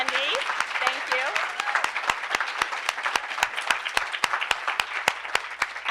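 An audience claps in applause at a community storytelling event, a steady run of sharp, evenly spaced claps with a voice speaking over them at the start.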